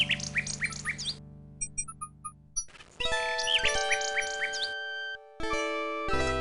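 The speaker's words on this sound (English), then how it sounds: "A nightingale perches on a high branch of the tree. She sings the most beautiful song Alexander has ever heard." Bright chirping and warbling birdsong of a nightingale in the King's Quest 6 video game, phrases rising and falling over soft synthesized game music with chime-like tones, a pause, then a fuller passage.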